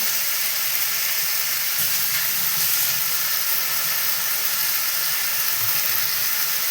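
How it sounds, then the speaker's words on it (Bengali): Chicken fries with onion and garlic in a pan for a Bengali chicken curry with potatoes, a loud, steady, hissing sizzle that continues without pause. "এবার বেশ করে চিকেনের সঙ্গে পেঁয়াজ রসুন কষে নেব"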